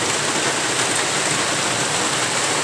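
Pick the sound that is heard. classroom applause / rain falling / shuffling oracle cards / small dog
rain falling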